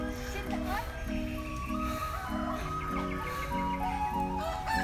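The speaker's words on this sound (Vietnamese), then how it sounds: "À, khu vực này rất là nhiều gà." Chickens cluck steadily in a family chicken-raising area on a rural countryside farm, heard moderately close while people talk over them throughout.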